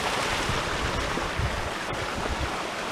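Loud rushing water of a rain-swollen mountain stream on Mt. Colden's Trap Dike fills the air with dense, continuous roaring close by, with no voices over it.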